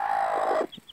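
A broody hen gives a single close, drawn-out cluck, followed by a couple of faint high chick peeps.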